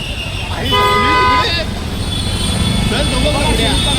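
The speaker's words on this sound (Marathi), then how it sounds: "ट्रॅफिक पण आहे आणि खूप क्राऊड आहे" A vehicle horn blares in one sustained toot amid steady road traffic rumble and a dense crowd murmur in Mumbai during a Ganesh idol arrival procession, with voices throughout.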